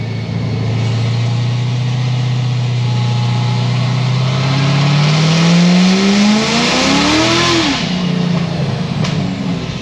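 A Chevrolet Corvette C7 Z06 running 46% E85 on cold tires idles with a deep rumble, then revs up in a loud, rising roar before easing back down, close and continuous.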